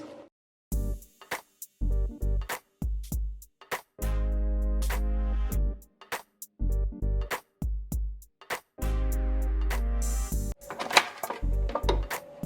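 Oreo cookies are crushed in a food processor in repeated short pulses, each a loud, close motor whir of a second or two with gaps between, and some rattling clatter at the end.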